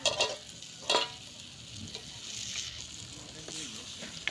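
A taro curry with tomato, potato and fish head simmers and sizzles softly in a pan as a spoon stirs it, with a few louder scraping strokes over a low steady bubbling hiss.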